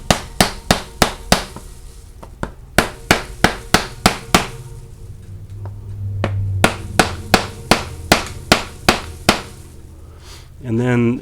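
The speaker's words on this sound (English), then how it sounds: "Hammer and a block of wood to tap it in." Sharp, evenly spaced hammer taps on a wooden block, pressing a bottom bracket shell into a bike frame, close and loud, in two runs separated by a short pause with a low hum.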